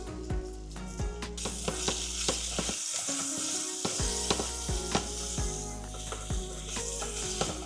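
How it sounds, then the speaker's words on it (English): Seasoned vegetables sautéing in a pan with salt and ground white pepper, a steady close sizzle and hiss broken by scraping and clicking as they are stirred, with no one speaking. "we're gonna allow them to saute for about 5 minutes in this pan"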